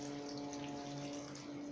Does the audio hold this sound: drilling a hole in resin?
no